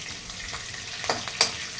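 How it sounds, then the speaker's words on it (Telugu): Urad dal fries with green chillies in a pan for an uggani puffed-rice breakfast, a brief close sizzle with a couple of sharp stirring scrapes. "ఇది ఫ్రై అవ్వాలి ఇందులోనే మినప్పప్పు వేశాను"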